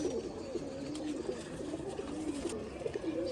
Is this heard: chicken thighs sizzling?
no